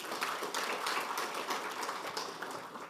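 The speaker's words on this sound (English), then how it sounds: "Please clap for the partners in the room." Audience applause at a banking industry sustainable finance summit, a steady wash of many hands clapping for about three seconds with no voices over it.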